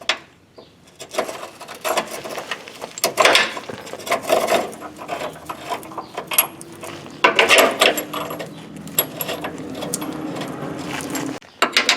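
Wrench or ratchet tightening bolts on the front lower control arm of a Chevy Trailblazer, steady close metallic clicking and clinking of tools and hardware, loud and busy throughout.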